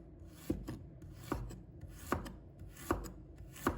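A knife slices peeled ginger on a board with steady, evenly spaced chops, about five crisp thuds under a faint scraping rasp.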